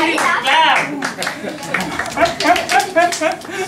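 A classroom of students clapping together, uneven bursts of hand claps mixed with laughter and voices talking throughout.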